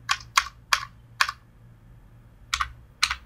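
Computer keyboard keys pressed for copy and paste shortcuts: a close, crisp cluster of four quick clacks, a short pause, then two more keystrokes, with no voices.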